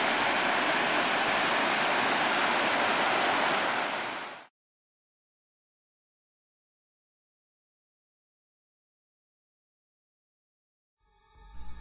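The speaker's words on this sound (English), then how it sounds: "River down there." River flowing below a rocky scree slope in grizzly country, heard as a steady loud rushing wash that cuts off abruptly partway through, followed by silence.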